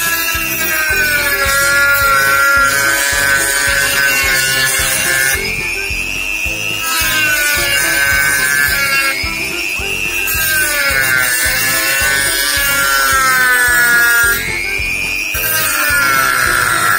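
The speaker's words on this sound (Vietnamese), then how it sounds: "bây giờ mình chỉ cưa theo cái đường mình đánh dấu thôi" A handsaw cuts along a marked line on the plastic casing of a power charger, giving a steady, close, continuous rasping with rhythmic back-and-forth strokes and no talking.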